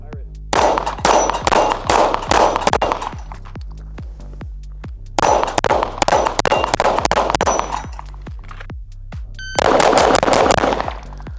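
Rapid strings of pistol shots from ported Fowler Vanta-9 2011 handguns, loud and close with sharp metallic ringing, fired in three bursts of quick successive shots separated by short pauses.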